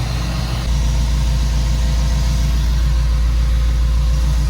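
A healthy Subaru engine runs steadily at a close, loud idle, a constant low throbbing hum that continues on its own without talk.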